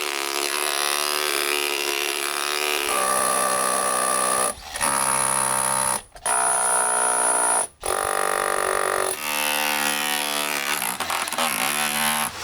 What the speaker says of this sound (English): But this guy, the hammer drill, that's what you want. I just have it on the hammer function, so it's not drilling anything.